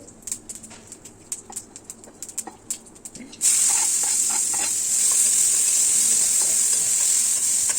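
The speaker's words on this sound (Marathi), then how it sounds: "त्याचकडे परत तेल घातलं मोहरी हिंग घातला आणि कांदा परतून घेते" Onion frying in hot oil with mustard seeds and asafoetida, a steady loud sizzle that bursts in abruptly after a few seconds of scattered stirring clicks and pops, then holds evenly to the end.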